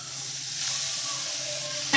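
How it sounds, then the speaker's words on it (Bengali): Chicken kosha masala frying in a pan gives a steady, fairly quiet hiss and sizzle that holds evenly, ending on a brief clunk. "সুন্দরভাবে মশলাটা কষে নেব 10 মিনিটের"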